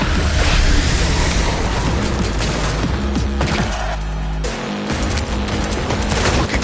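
Cyberpunk 2077 combat: a grenade blast and rapid, overlapping gunfire fill a dense, loud, continuous barrage, with a deep booming thud midway before the shooting carries on.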